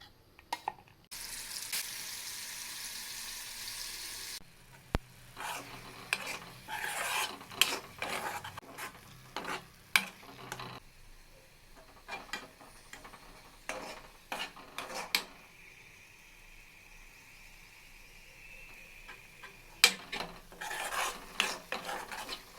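Two spoons of oil heating in a pan while ingredients are stirred and roasted for a Kannada uppesaru khara dish, with bursts of sizzling and repeated scraping and clinking of a spoon against the pan, and no talk.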